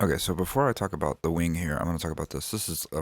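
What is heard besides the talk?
None of the usual background noises is heard.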